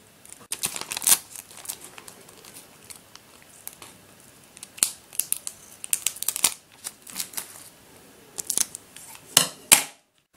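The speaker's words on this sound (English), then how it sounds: "now all I need to do is to just cut around them while they're on this clear tape" Scissors snip through clear tape to cut out homemade white stickers for a clover cube puzzle: close, crisp bursts of cutting and crinkling tape in irregular clusters with short pauses between them.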